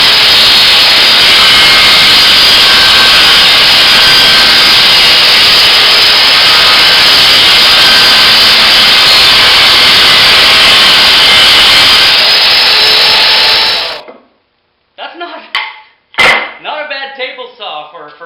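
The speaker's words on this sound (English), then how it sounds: "this thing actually cuts surprisingly well for being nothing more than a skill saw screwed to the bottom of a piece of plywood" A skill saw screwed beneath a sheet of plywood cuts wood with a loud, steady, high-pitched whine that runs for about fourteen seconds before stopping abruptly, followed by a few clattering knocks.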